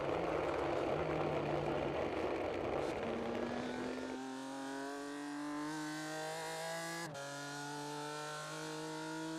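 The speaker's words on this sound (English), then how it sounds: "Love the sound of the exhaust." A Williams race car engine in an esports sim race roars loudly, then settles into a droning exhaust tone that climbs steadily in pitch as it accelerates, with a brief gear-shift dip.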